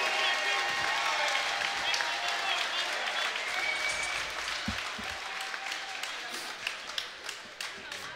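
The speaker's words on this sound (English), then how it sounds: "let's hear a big round of applause for both these fighters" Crowd applause for two fighters at an MMA cage event, dense clapping in a large venue with scattered louder claps and a few low thuds, fading slightly toward the end.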